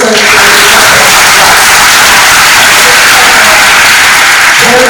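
Steady applause fills the space at a school open house, a dense wash of clapping from a large crowd that holds at full strength throughout.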